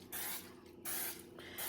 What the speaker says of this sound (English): I'm going to go ahead and spray my little baking dish really well.